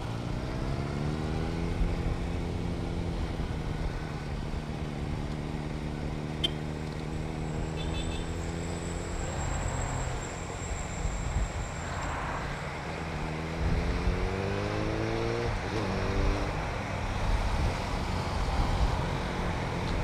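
A motorcycle engine revs with rising pitch, shifts up and accelerates again, a steady moderately loud drone with clear pitch sweeps that repeat later, heard alone without talk.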